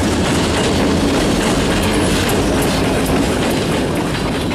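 A freight train with locomotive 4325 in its consist rolls past on the Mackinaw Subdivision, loud and close, with steady clickety-clack of wheels over rail joints and a faint squeal.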